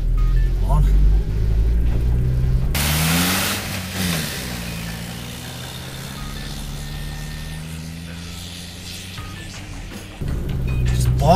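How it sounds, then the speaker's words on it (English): A car engine bogs in third gear with the throttle floored on Hatteras Island, a heavy droning note that climbs only slowly and labours throughout, loud and close. "Bogging in third. My foot is to the floor, going nowhere."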